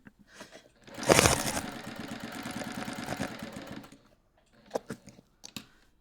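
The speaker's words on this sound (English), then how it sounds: "Just stitch around all corners here" A sewing machine stitches around the corners of a fabric bag in a fast mechanical whir lasting a few seconds, followed by a pause and a few isolated clicks.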